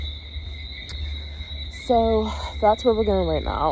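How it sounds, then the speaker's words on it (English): Crickets chirp steadily as a high continuous trill at night near a beach, a constant backdrop while someone talks over them for much of the clip. "you can hear the crickets even louder as I walk toward the beach"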